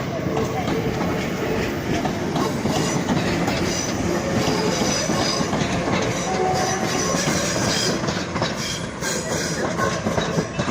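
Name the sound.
train departing Crewe station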